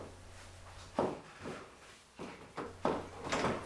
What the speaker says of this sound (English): Make sure that when the latch engages, you'll hear 2 clicks to make sure it's fully engaged.